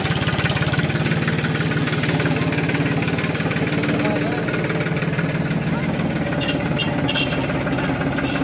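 A tractor engine labours while pulling an overloaded trailer, giving a steady, loud mid-pitched drone with a rhythmic knocking pulse that runs throughout, close by and constant, with voices faintly under it.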